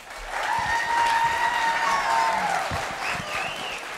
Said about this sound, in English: can we give these beginners another big round of applause?